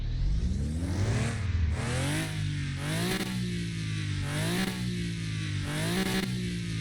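A modded BMW car in a video game revs its engine repeatedly, the tone climbing through rising sweeps and dropping back between shifts, loud, close and continuous with no talk.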